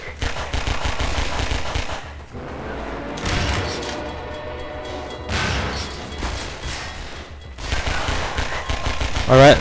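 Machine gun fire from the video game Half-Life 2: several loud, rattling bursts separated by short lulls, with a final burst at the end.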